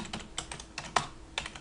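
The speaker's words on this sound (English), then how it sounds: "So at the moment I'm just using the arrow keys on the keyboard to navigate" Arrow keys on a computer keyboard are tapped in short, soft, irregular clicks, about half a dozen quiet presses close to the microphone with no voices.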